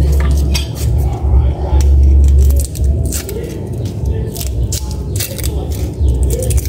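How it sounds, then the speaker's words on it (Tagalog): Kitchen preparation of garlic and onion, with clinking cutlery and knife taps on dishes and a board in a loose irregular rhythm, close by, with a low hum and faint birdsong behind. "Unahin ko itong prepare itong bawang sibuyas para mamaya ilagay ko na lang lahat"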